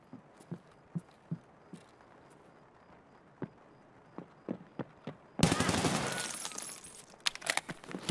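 A string of soft, scattered clicks and taps in Escape From Tarkov gives way to a sudden, sustained rattle of distant gunfire that runs for a couple of seconds, followed by a few more sharp pops.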